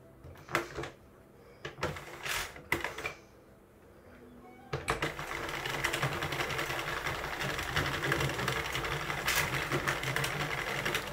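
A Sentro circular knitting machine is cranked for about ten rows, a close whirring, clicking rattle that starts after a few scattered knocks and handling sounds and then runs continuously to the end.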